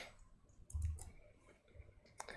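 Typing on a computer keyboard: a few sparse, soft clicks and taps close by, quiet and alone.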